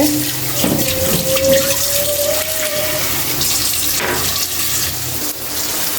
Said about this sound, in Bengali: তো এদিক দিয়ে একটু হালকা পানি দিয়ে দিলাম।